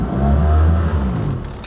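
A tiller-steered outboard motor on a small fishing boat on the Baltic Sea revs up, a close, loud engine drone that swells and then eases slightly.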